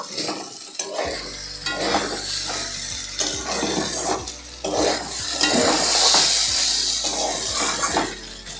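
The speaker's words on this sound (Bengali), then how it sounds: "এবার চাল ডাল মশলা সব একসঙ্গে 2 মিনিট আবার ভেজে নেব।" Rice, lentils and spices for khichuri frying together in a pan, with a steady sizzle under repeated scraping and stirring strokes of a spoon against the pot.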